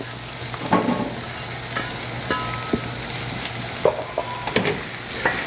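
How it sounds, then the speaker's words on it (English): Vegetables sautéing lightly in butter on a stove: close, steady sizzling with frequent scraping and clacking stirs from a utensil against the pan. "this is a little bit of butter. I'll saute these"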